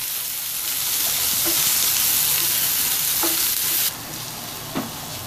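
A green chili and onion mixture for chokha is stirred in a pan with a continuous close scraping and sizzling sound and a few soft knocks, with no voices.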